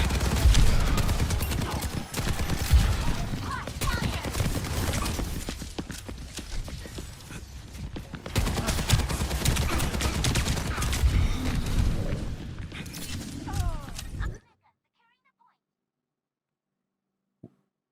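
Gunfire from the Soldier hero in an Overwatch match, a dense run of rapid game shots with impacts and effects lasting about fourteen seconds before cutting to near silence, with a voice speaking over it.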